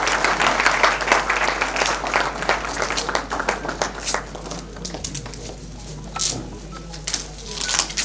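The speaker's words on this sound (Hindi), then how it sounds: "और आपकी जोरदार तालियां यहां बहुत ही जरूरी हैं।" Sustained audience applause fills a hall during the catalogue release at the 63rd annual art exhibition's inauguration and award ceremony, loud and steady throughout before easing slightly toward the end.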